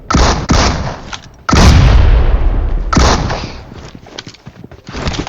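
Grenade explosions and gunfire in the video game PUBG Mobile, several loud, heavy booms in quick succession, each one decaying into a rumbling tail, with sharper cracks scattered between them, close and forceful.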